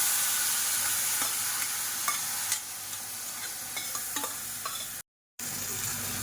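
A spoon stirs beetroot kootu, a South Indian lentil side dish seasoned with asafoetida, in a hot pan. Soft sizzling runs under repeated scraping and clinking strokes, with a brief dropout near the end.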